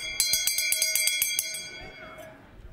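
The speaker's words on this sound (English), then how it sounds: "Don't make me ring the bell." A hand bell rings for attention in a church gathering, a quick series of bright, sharp clangs about a dozen strokes in a row, then fading out to a lingering ring with faint room noise.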